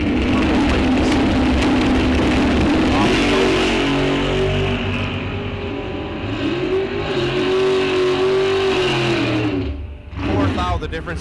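A Plymouth Cuda and a 1966 Chevy II launch in a bracket drag race at Rock Falls Raceway, loud roaring engines rising in pitch, with an announcer talking over them throughout.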